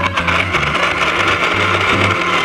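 A blender runs continuously, whirring and churning as it mixes balut mousse with whipped cream and gelatin, with a steady motor drone and uneven, pulsing low thumps.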